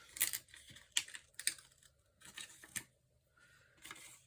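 Planner sticker paper being trimmed gives faint, crisp snips and light clicks in short separate bursts, close and quiet with brief pauses between cuts.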